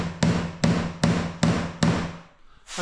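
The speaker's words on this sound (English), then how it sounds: "I've just tacked it. I'll carry on nailing it off later." A hammer tacks nails into architrave trim, five sharp, evenly spaced blows ringing close and loud, followed by a brief quieter pause and the start of another strike.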